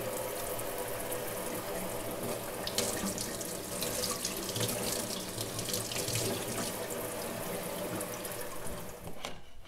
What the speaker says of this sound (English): give it a little rinse under the tap